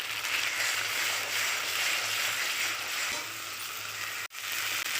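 Ground mustard and poppy seed paste with green chillies sizzles in hot oil, a steady loud hiss with a low hum beneath and a brief sharp break near the end.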